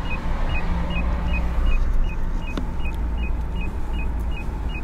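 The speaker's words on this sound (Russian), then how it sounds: "So I'm going on the маршрутка, keeping it real." A marshrutka minibus rides through Chechnya with a steady engine rumble and road noise throughout, and a quick series of small electronic beeps repeats over the drone.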